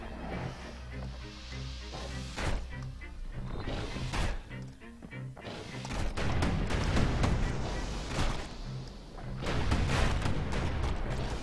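Cannon fire in the video game Bastion: a run of heavy booming blasts, some close together, with a loud burst of overlapping shots in the second half over a dense game soundscape.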